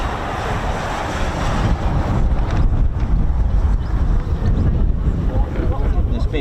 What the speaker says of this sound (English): It's windy, isn't it?